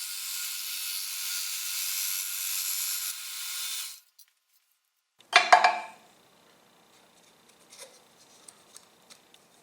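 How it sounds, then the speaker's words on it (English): Shopsmith jigsaw cutting a wood scrap: steady buzzing saw noise for about four seconds stops abruptly, then after a pause comes a short clattering knock and a few faint scattered taps. "I'm really happy with how the first few test cuts went on the jigsaw"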